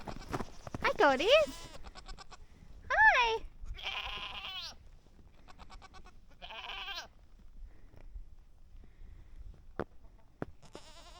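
Goats bleat on a farm where chickens are kept, several wavering calls rising and falling over the first seven seconds, moderately close, with a brief spoken greeting and quieter clicks and knocks afterward.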